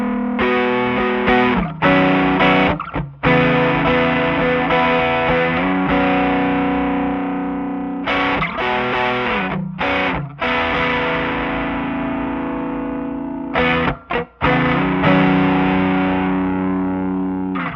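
Electric guitar with drive blended with compression through a Sparks analog harmonic processor, sustained distorted chords and notes ringing loud and close, with a few brief chopped gaps between phrases.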